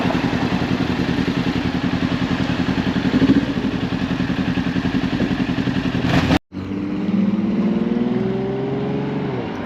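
A motorcycle engine drones loudly and steadily while riding during rev matching, then cuts off briefly. It comes back with a rising rev as the gears change.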